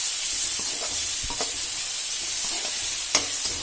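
Fish curry ingredients with turmeric are stirred and mixed in a hot pan, a steady close sizzle of frying running throughout with soft scraping strokes of the spoon.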